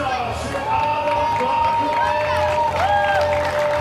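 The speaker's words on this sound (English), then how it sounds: "A very generous round of applause, and absolutely deserved, really, for both teams" Crowd cheering and applauding at the teqball finals in Pula for the mixed doubles medalists, a steady roar with whistles and shouts, while a voice talks over it.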